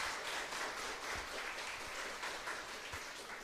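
A church congregation applauds after a talk, a steady, even wash of many hands clapping heard from within the hall, with no voices over it.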